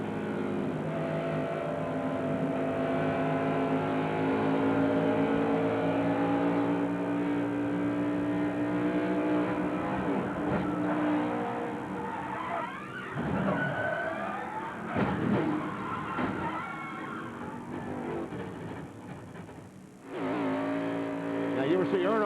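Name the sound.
onboard audio of Ward Burton's race car, feathering gas pedal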